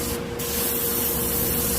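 A Paasche Talon airbrush with a 0.38 tip sprays paint at about 18 to 20 psi, giving a steady, close, continuous airy hiss with no talking.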